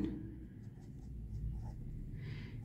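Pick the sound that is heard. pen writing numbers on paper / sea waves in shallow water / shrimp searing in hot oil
pen writing numbers on paper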